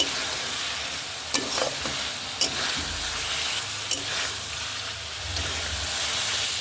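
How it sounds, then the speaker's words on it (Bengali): Pumpkin lentil dumplings (kumro bori) and potatoes are fried and stirred in a pan with coconut milk and duck eggs close by, making a steady sizzling hiss broken by a few light scrapes. "এবার আমি কুমড়ো বড়িটা না এই আলুর সাথে কষিয়ে নেবো"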